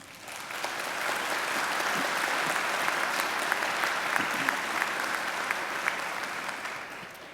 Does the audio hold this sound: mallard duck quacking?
no